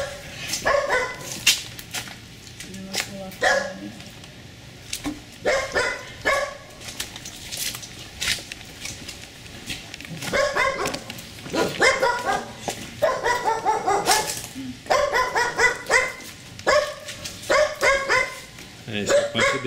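A dog barks repeatedly in bursts inside a quiet building, loud and close, with people talking at times between and over the barks.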